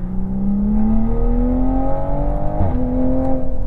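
A Toyota Supra engine drones loudly and steadily on the Interlagos race track, rising in pitch as it accelerates, with a brief gear shift midway, heard from inside the car.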